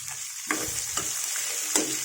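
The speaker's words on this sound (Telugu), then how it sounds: "ఇప్పుడు ఇది అయిన తర్వాత కరివేపాకు వేస్తానండి" Curry leaves and ponnaganti greens frying in hot oil, a close steady sizzle broken by a few sharp stirring clinks and scrapes.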